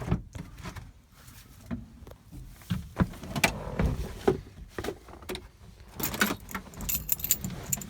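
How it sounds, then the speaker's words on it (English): Keys jangle and clink inside a 1988 Land Rover Defender 127/130, a series of close metallic rattles and knocks with soft cabin handling noises between them. "Keys"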